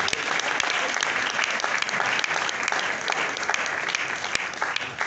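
A crowd applauds steadily and loudly throughout at an awards ceremony, the third edition of the Nzonzing Awards, as the expertise prize goes to Da Costa; dense clapping with a few sharp individual claps standing out.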